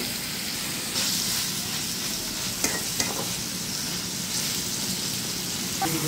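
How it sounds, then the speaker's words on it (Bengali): Washed crab goes into a pan of onion and spice masala, setting off a steady close sizzle of frying with occasional stirring clatter. "মশলার সাথে পেঁয়াজটা কষানো হয়ে গেছে, এখন ধুয়ে রাখা কাঁকড়া মাছটা দিয়ে দিব।"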